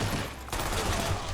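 A dense fusillade of rapid submachine gun fire rattles loudly and continuously in a Call of Duty: Black Ops campaign mission, with no speech over it.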